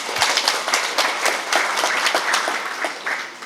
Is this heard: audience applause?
yes